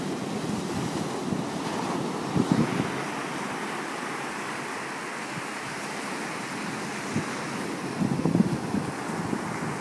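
Ocean waves wash onto a shore in a steady, fairly loud surf roar with wind buffeting, and a few brief swells rise around the second, seventh and eighth seconds; no one speaks.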